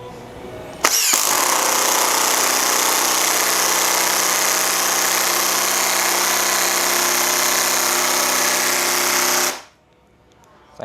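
A Makita 40V TD001G cordless impact driver runs in mode 3, a loud, steady mechanical whir with hammering rattle that starts abruptly near the beginning, holds for about nine seconds, then stops cleanly.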